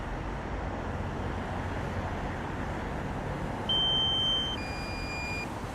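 Drone controller beeping as the drone is flown back, a short high electronic tone of just under a second over steady outdoor traffic hum, followed by fainter thin tones.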